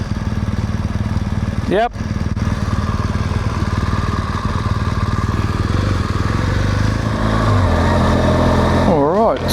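Motorcycle engines idling steadily beside a road on a trip toward Inverell, a continuous low rumble that fills the whole stretch while people exchange a few brief words over it.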